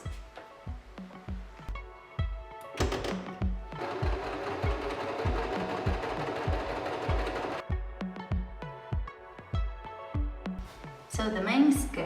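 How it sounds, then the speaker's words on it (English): A sewing machine runs zigzag stitches along lace for a seventies-style dress, in bursts of rapid mechanical whirring separated by short pauses, with one long continuous run in the middle, close and clear. "And I'm going to zigzag stitch it all,"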